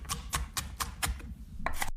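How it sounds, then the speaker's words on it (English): Vegetables are chopped with a knife on a board in a kitchen, about eight sharp, evenly spaced chops close by and alone, with no talking. "I am chopping the vegetables now."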